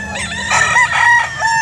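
A white Kelso gamefowl rooster crows nearby, its drawn-out call rising and falling over a noisy outdoor background with other fowl sounds.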